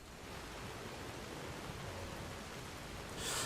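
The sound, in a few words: rain falling in the video game Enderal (Skyrim mod)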